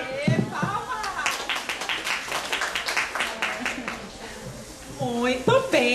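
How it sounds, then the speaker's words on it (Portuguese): A group breaks into applause, a dense run of sharp claps lasting a few seconds before fading, with voices heard at the start and end. "Aê, palmas."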